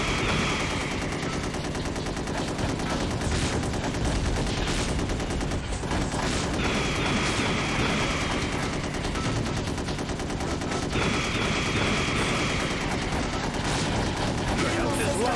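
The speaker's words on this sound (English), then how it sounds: "The convoy is under fire." Sustained, dense machine-gun and rifle fire in the video game Gun Metal as a convoy comes under attack, a loud continuous barrage that never lets up, with radio voices over it.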